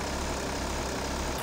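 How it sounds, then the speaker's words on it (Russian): A moped engine from Deserter Simulator runs with a steady, loud droning hum that holds at an even level and then cuts off abruptly at the end. "Типа, мопед."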